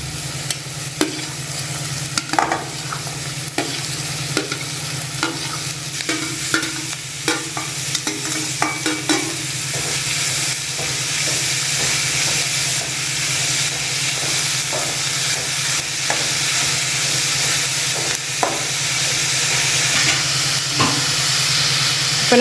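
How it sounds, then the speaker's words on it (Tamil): Beans, carrot and tomato sauté in oil for veg noodles, making a loud, constant sizzle and hiss, with frequent spatula scrapes and knocks early on and no voices. "இப்போ நல்லா அதை எண்ணெயிலே நல்லா வதக்கி எடுத்துக்கோங்க"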